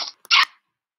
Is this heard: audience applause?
no